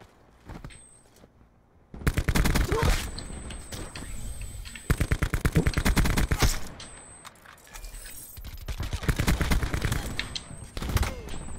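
Bursts of automatic gunfire in Call of Duty Black Ops 4, loud rapid volleys starting after a quiet opening, with repeated clusters of shots and brief pauses in between, no voices over them.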